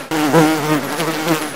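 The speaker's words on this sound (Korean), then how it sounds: "야 얼마나 꿀 마시면 꿀벌이 이렇게 돌아다니냐." Honeybees buzz around sausages with mustard and vegetable sauces at an outdoor spot in Munich, a close, steady droning hum with wavering pitch that lasts the whole short moment, with no talking.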